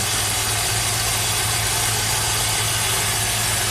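Pontiac GTO V8 idling with a misfire, a close, steady rumbling engine drone with a low pulsing throb and no talk.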